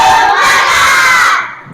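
A class of children shouting together in a loud spirit cheer, a single sustained burst of massed voices that fades out at the end.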